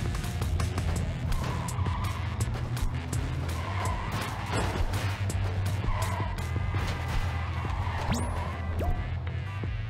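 Trucks in the game ClusterTruck with screeching tires, engine drone and rising whistle-like squeals over constant chaotic game noise, loud and continuous.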